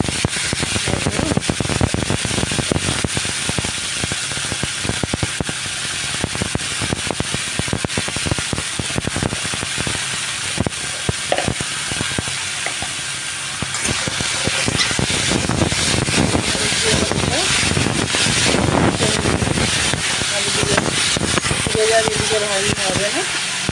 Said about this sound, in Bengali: কালো জিরাটা ভালো করে ভাজা হয়ে গেছে, এবার আমি শাকগুলো দিয়ে দিলাম